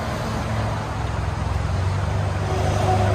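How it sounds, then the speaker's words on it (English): A Chevy Silverado pickup with a 2.7-litre four-cylinder turbo engine idles and runs nearby, a steady low rumble that swells slightly toward the end, with faint traffic noise around it. "Chevy Silverado 4-cylinder turbo."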